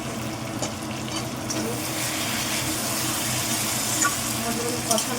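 Chicken wings sautéing in a pan with tomato paste, ginger, garlic and ground spices, a steady dense sizzle and frying crackle throughout, with a voice speaking faintly underneath.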